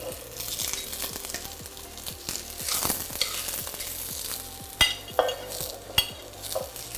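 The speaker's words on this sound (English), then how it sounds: "Now add some cauliflower to it. And cook it through for about 6 minutes." Cauliflower and onion sizzle in a soup pot, a continuous close frying hiss broken by scraping stirs and a few sharp clinks of a utensil against the pot.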